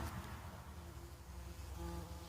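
A bumblebee buzzes with a steady low hum continuously close by, a droning flight sound with slight wavering in pitch.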